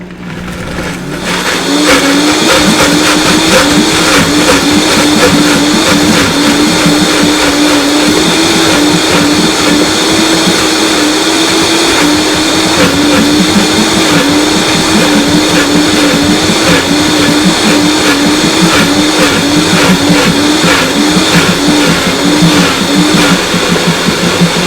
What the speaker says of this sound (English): 30 seconds, food processor or blender.